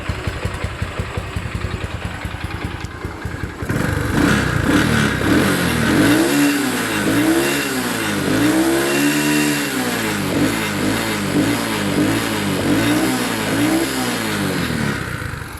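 A Honda Wave 125S motorcycle engine runs close by and loud, idling and then revving up in repeated rising and falling swells, with no talk over it.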